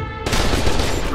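Sudden loud, dense gunfire from the shooter game F.E.A.R. 2: Project Origin bursts in after a brief quiet moment and keeps going as a close rapid roar to the end.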